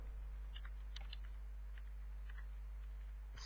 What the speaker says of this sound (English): Here I'm just typing